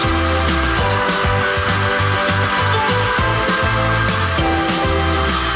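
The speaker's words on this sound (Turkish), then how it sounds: "Ayakkabının tamamını kapladıktan sonra üzerine saç kurutma makinesini tut." A hair dryer blows steadily over canvas shoes coated in wax, a loud, constant whooshing roar with a low hum and a faint fluttering pulse, running alone without speech.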